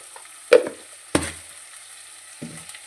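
Food cooking in a pan as salt and turmeric are stirred in, heard as a few sharp, separate scraping and clattering strokes of a utensil over a faint sizzle, close by.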